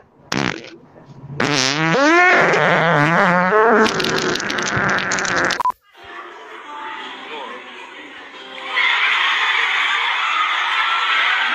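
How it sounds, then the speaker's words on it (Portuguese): Bursts of farting noises with squeaky, rising-and-falling tones and a wet sputter, fairly loud and close, followed by a longer stretch of steady hissing noise. "Já tô escutando aqueles peidinhos."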